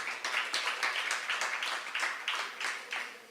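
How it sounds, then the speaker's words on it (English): Audience at a live radio show applauding the guests, a steady wash of many hands clapping at moderate distance, continuous for a few seconds and slowly tapering. "Let's hear a round of applause for these two guys"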